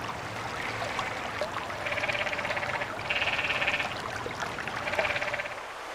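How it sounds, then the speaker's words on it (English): Canyon tree frog in a national park canyon, giving several rapid, buzzy trilled croaks in bursts of about a second, fairly close, over a constant hiss of flowing water. "It's the croak of the canyon tree frog, probably the most commonly heard amphibian in the park."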